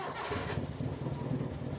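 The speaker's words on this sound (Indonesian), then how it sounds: "mesinnya dinyalain." A motorcycle engine starts and settles into a steady mid-pitched idle close by, during brake bleeding work with the reservoir open, running alone without voices.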